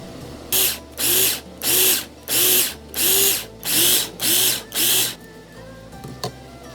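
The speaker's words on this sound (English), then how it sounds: "Use a grinder to grind the small pieces of ginger as much as possible." An electric grinder pulses eight times in quick, even bursts, each about half a second long, as it chops small pieces of ginger, a loud, close, whining buzz with short gaps between bursts and then quiet at the end.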